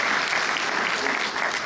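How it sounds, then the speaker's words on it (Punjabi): A crowd at a public welcome event applauds loudly and steadily, dense clapping that fills the whole stretch without a break. "ਪਲੀਜ਼ ਜ਼ੋਰਦਾਰ ਤਾੜੀਆਂ ਅਮਰਜੀਤ ਸਿੰਘ ਦੇ"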